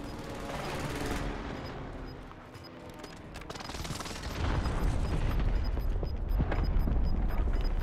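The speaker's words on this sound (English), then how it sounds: "Allied precision airstrike incoming." Precision airstrike explosions in the Call of Duty video game, heard as dense rumbling blasts and crackling impacts that swell louder in the second half, with low booming energy sustained under a busy game mix.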